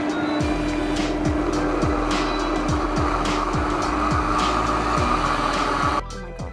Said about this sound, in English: I'm going to blend it on high speed for about 30 seconds until it's all mixed